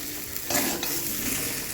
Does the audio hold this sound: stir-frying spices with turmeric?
yes